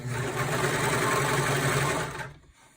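A sewing machine stitches a car trash bag in a fast, steady mechanical whir for about two seconds, then stops abruptly.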